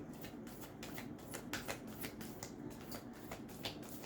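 Tarot cards are shuffled by hand in a fast run of crisp, papery flicks and riffles, close and quiet, continuing steadily throughout.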